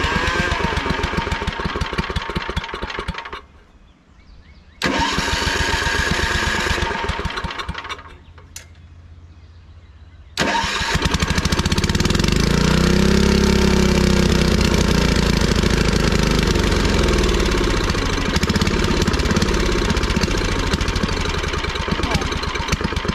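An old 40-year-old tiller engine sputters to life and cuts out a couple of times, then catches and runs loud and steady with a rough, knocking idle close by.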